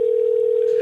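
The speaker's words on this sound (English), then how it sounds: "Oh, it's ringing." A telephone tone during a call sounds as one steady, loud, unbroken tone held for under a second, with no voices.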